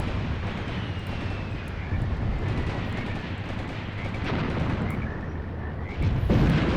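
Tank cannons and guns firing in a Graviteam Tactics battle on the Mius Front, distant rumbling blasts and scattered shots over a continuous roar of battle, louder near the end.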